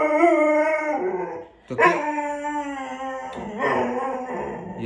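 A pit bull that is ill with diarrhea and vomiting whines and howls in long, drawn-out, tonal cries close by, with a short break midway; a person says a single word.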